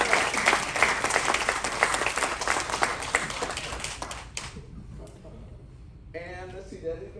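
Audience applause for a musician after a traditional music set, dense clapping for about four seconds that thins and fades, followed by a voice speaking.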